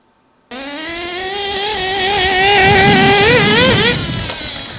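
A nitro engine of a radio-controlled car runs close and loud during break-in, starting abruptly with a sharp buzzing whine, then rising in pitch and wavering before easing off slightly.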